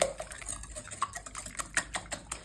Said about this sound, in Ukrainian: Тепер я трошки оце все розмішаю.